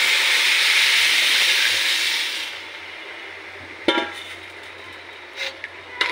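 Water poured into a hot frying pan of fried food for a home lunch dish raises a loud, sustained steamy hiss that fades after a couple of seconds, followed by a few sharp clinks and light scraping.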